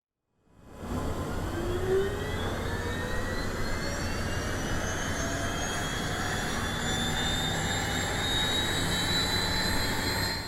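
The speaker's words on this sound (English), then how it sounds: "The engine sounds build upon the same technology as the Turbine Duke." A Black Square Starship turboprop engine in Microsoft Flight Simulator spins up and settles into a steady loud drone with rising whining tones layered on top.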